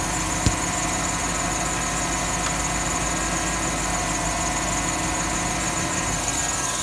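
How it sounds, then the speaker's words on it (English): A 2006 Jeep Commander's 5.7-liter Hemi V8 runs smooth and steady at close range, a continuous even drone with a faint high whine and one brief click near the start, no voices. "Man, this is such a good engine."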